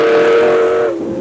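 A train whistle sounds loud and sustained for about a second as a steam-era passenger train runs toward Washington, its steady tone then dropping away into fading rail rumble.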